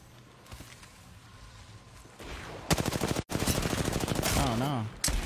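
Rapid bursts of automatic gunfire ring out in the Apex Legends video game, with a dense volley in the middle and more fire near the end, loud and close over a low game background with a voice at times.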